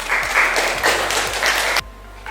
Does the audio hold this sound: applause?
yes